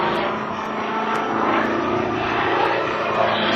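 Rob Holland's Pitts Model 12 aerobatic plane performs a torque roll at the 2007 Wheels and Wings Airshow. Its propeller engine gives a loud, steady, continuous drone with no pauses.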